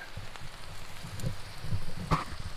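Rain patters faintly on surfaces around a wild hammock camp as a storm brews, soft scattered drops over a low background with a slightly louder tap near the end.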